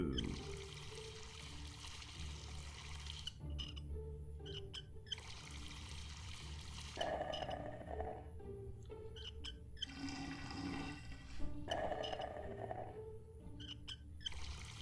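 Water pours in a puzzle scene from the video game Mystery Case Files: The Malgrave Incident, in several steady bursts over soft ambient game sounds, with brief pauses between pours and no talk.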